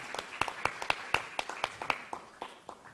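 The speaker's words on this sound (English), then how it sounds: "So can we have a big round of applause for Mr. Harmeek Singh as well?" Audience at a Dubai women's running event clapping in a short, uneven burst of individual claps, fairly close and moderately loud, thinning out toward the end.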